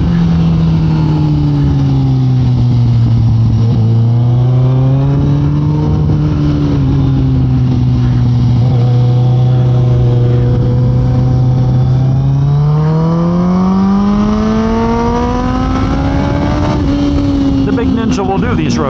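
Motorbike ridden on a road, its engine droning steadily and rising in pitch as it accelerates, easing off and then climbing again, with constant wind rush throughout.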